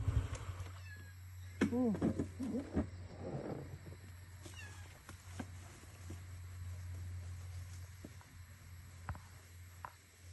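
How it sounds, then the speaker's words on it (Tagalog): A few close stray cat meows, a couple of quick wavering cries early on, over a low hum and faint rustling; voices murmur in the background. "may nakita tayong pusa, inabol tayo"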